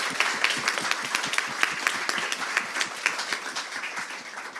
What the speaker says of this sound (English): So I think we should have a round of applause for that.